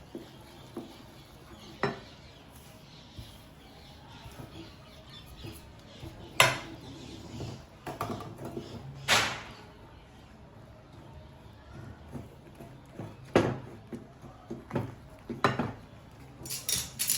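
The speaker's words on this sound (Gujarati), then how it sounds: "વેલણ કાં તો ચમચીની મદદથી તમને જે રીતે ફાવે એ રીતે એને મિક્સ કરતા જઈશું." A spoon or rolling pin scrapes and knocks against a pot while rice-free flour is stirred into hot water for chakli dough, giving scattered sharp clinks over a quiet kitchen background.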